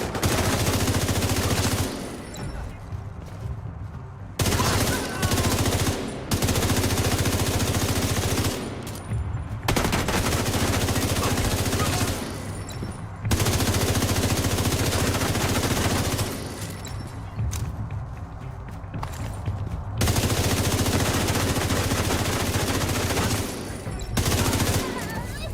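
Sustained automatic gunfire in the video game The Division comes in long, loud rattling bursts separated by short quiet gaps, dense and close, with a voice faintly underneath.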